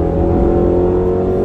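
A 550-horsepower V8 in a 2020 Range Rover Velar SVAutobiography revs loudly and steadily, a deep sustained engine roar heard up close with no voices over it.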